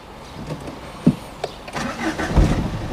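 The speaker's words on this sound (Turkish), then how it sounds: "Şimdi çalıştır bakalım arabayı." A car in a driving exam, a five-speed manual, is started up close: brief cranking clicks, then the engine catches and settles into a rising rumble.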